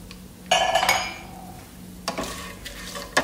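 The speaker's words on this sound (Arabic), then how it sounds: "نحمس الثوم مع الزنجبيل والفلفل الحار، وأضيف اللحم" Beef stir-fries in a pan with garlic, ginger and chili, with a few sharp clinks and scrapes of a utensil stirring against the pan over a low background sizzle.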